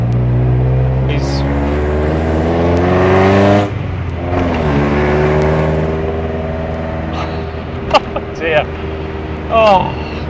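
Loud, steady engine drone from inside a modified 1985 VW Golf GTI Mk2, with the revs dropping and climbing again and a few sharp exhaust pops and bangs toward the end.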